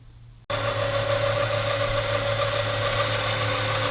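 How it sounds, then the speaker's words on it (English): Car engine idling while warming up after antifreeze work, starting abruptly after a short quiet moment and then holding a steady, close, loud running hum with a constant low drone and no speech. "I don't know if you can hear me over the car, but I'm letting it warm up."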